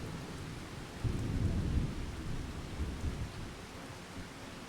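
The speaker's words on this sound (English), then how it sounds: "See if we can get out of this rain." Rain falls steadily in Farming Simulator 25 on a Texas plains map, with low rolling thunder swelling midway and fading out beneath the downpour, no voices.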